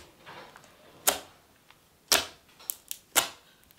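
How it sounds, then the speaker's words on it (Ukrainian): Homemade slime of shaving foam and glue gives off sharp, crisp clicks and pops as it is worked by hand. Five separate snaps come at irregular intervals over a quiet background. "Послухайте, як він класно клікає."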